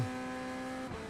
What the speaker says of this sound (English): Nobody likes that noise, that traction control.